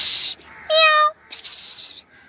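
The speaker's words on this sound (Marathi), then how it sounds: "अजून किती छोटे छोटे किटन झाले बघा इथे." Tiny stray kittens give several short, high-pitched meows close by. One clear tonal mew sits between breathier cries, with a faint voice nearby.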